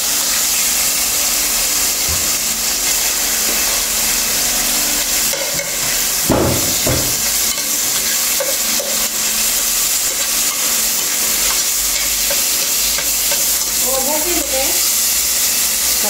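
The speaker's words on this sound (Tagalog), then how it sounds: "Medyo i-fry natin yung chicken," Chicken fries in a pan with a steady hiss and sizzle that runs loud and close the whole time, broken by a brief clatter midway, while a voice speaks faintly near the end.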